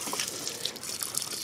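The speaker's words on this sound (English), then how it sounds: "Oh, my hose is loose." Water sprays and gushes from a loose garden hose at a spigot, a brief hissing, splashing rush with scattered droplet spatters, fairly quiet and steady.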